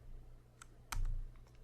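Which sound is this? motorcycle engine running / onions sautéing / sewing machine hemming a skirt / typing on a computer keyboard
typing on a computer keyboard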